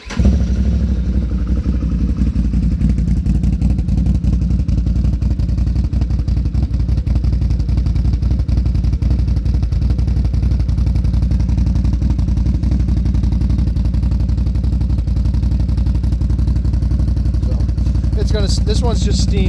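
A Polaris RZR Turbo side-by-side fitted with a Trinity exhaust and programmer runs continuously with a loud, steady, rumbling drone close by, with clattery texture throughout.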